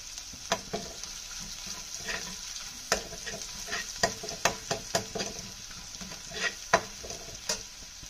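Chili chutney fries slowly on low heat in a pan after cumin, giving a steady soft sizzle broken by repeated sharp scrapes and clacks of a stirring spoon.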